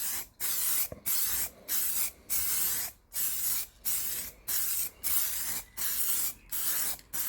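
Sealer is sprayed onto a bird bath in a regular series of about a dozen short hissing aerosol bursts, each roughly half a second long with brief pauses between, close and fairly loud.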